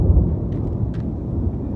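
Deep, rolling thunder in a powerful monsoon thunderstorm in Las Vegas, Nevada, a sustained low rumble that fills the moment, close and heavy, with no voices.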